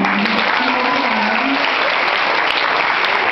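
Loud, sustained applause from a graduation ceremony crowd, a thick unbroken roar of many clapping hands with a faint voice briefly audible underneath at the start.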